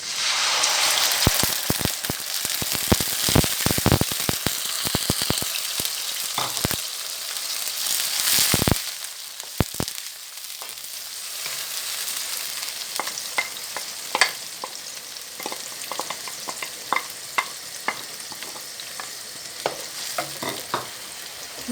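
Ground onion paste fries in hot oil, with a steady sizzle and scattered sharp crackles and spatters, busier at first and then settling into a lighter, even frying.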